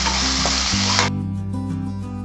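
Turmeric, Kashmiri red chili and coriander powder are stirred into sizzling oil for a matar malai curry, giving a loud, dense frying hiss for about a second before it cuts off, leaving a steady tonal hum.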